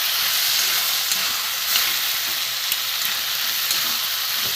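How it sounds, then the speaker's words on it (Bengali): Ridge gourd and potato sauté with spices in a hot pan, giving a bright, steady sizzle close by with faint stirring scrapes underneath and no voices. "চাপাটা খুলে আমি ভালো করে ঝিঙে আলুটা কষিয়ে নিলাম।"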